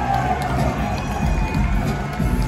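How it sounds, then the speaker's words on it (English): A crowd cheers and applauds at a live metal concert at The Masquerade in Atlanta, Georgia, a steady dense roar with a low rumbling undertone and no pause across the short stretch. "Round of applause for this guy"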